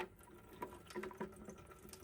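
Water and fuel trickling and dripping out of a Troy-Bilt TB110 lawn mower's fuel system, a faint irregular pattering drain with no talking.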